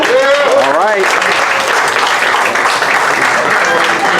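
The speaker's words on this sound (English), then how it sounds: "Let's give our sister another applause" Crowd at a peace rally bursting into loud, dense applause and cheering right after a voice speaks briefly, the clapping continuing steadily to the end.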